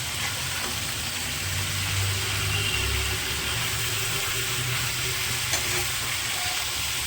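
Pumpkin and mixed vegetables frying in a pan while being stirred, a continuous dense sizzle with a low steady rumble underneath and occasional soft scraping, even in loudness throughout with no speech.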